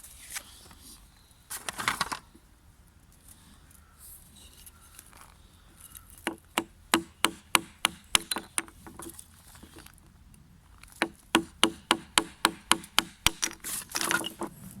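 An old wooden floorboard split into tinder, with bursts of sharp, rapid wooden cracks and taps in quick series, close and fairly quiet, separated by near-silent pauses.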